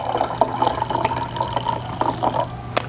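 Mint tea trickling from a teapot into a cup, a light uneven pouring with small splashes and drips, close and clear, no talking.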